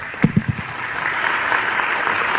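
An audience at a talk on motivating employees breaks into a round of applause, opening with a few sharp, separate claps before swelling into steady, moderately loud clapping from many hands.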